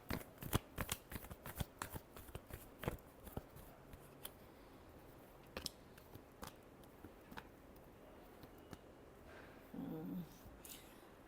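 Tarot cards being shuffled by hand: a long run of quick, soft riffling and flicking bursts, close and fairly quiet, with brief pauses and a short louder rustle near the end.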